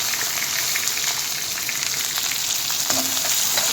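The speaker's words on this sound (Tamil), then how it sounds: "இதில் வந்து வெங்காயம் சேர்த்துக்கலாம். கருவேப்பிலை வெங்காயம் ஆட் பண்ணிக்கலாம்." Onion and curry leaves frying with crushed garlic in a pan give a loud, steady, dense sizzle throughout, close and continuous with faint crackles.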